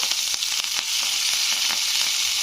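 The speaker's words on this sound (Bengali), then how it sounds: "এখানে আমি দিয়ে দিচ্ছি কয়েকটা কারি পাতা" Curry leaves hit hot oil with fried whole spices for a drumstick and tomato curry, giving a loud, steady, close sizzle with a few soft stirring scrapes, no voices.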